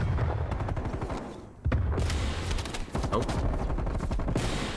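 Dense bursts of gunfire fill a Call of Duty Cold War multiplayer match where most players are using sniper rifles, with loud rapid shots and brief gaps, and a man exclaims once over them.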